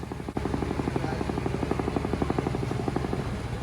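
A loud motorcycle engine drones with a rapid rhythmic thumping from its rattling top box, like helicopter rotor blades, close and continuous.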